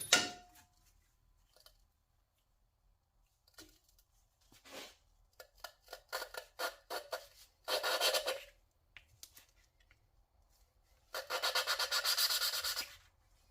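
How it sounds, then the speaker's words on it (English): Light hand grinding on engine valve parts of a Chevy 5.3 V8, repeated short rasping strokes in uneven bursts, with longer steady rubbing passes between quiet gaps, close and moderately loud, with no voices. "We're just going to do a real light grind on it."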